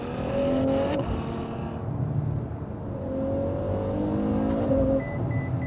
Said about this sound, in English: Brutal upshifts, absolutely brutal upshifts here.